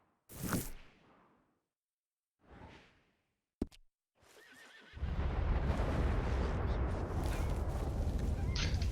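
Horses whinny in a Red Dead Redemption 2 video game, with a sharp neigh at the start followed by softer calls, then steady rushing ambience and rain-like noise fill the second half, with no talking.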